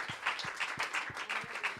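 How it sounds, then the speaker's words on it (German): A church congregation claps during a bilingual English-German thanksgiving service, a short burst of rhythmic, fairly even claps at moderate distance, with no talking over it. "Clap for yourself."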